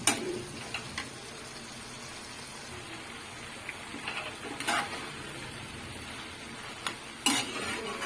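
A Malabar spinach and potato curry being stirred in a pan over raised heat as its water cooks off, a faint soft bubbling sizzle with occasional scrapes and light knocks of the spoon.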